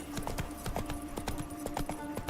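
Horse hooves clip-clop at a steady walking rhythm in The Witcher 3: Wild Hunt, close and clear over a steady in-game ambient hum.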